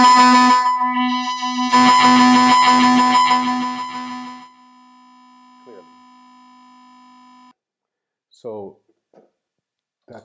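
A buzzy, harmonically rich synth tone with heavy distortion from an Elta Music Solar 42 plays loudly, then sustains more quietly before fading; brief voice-like bursts appear near the end.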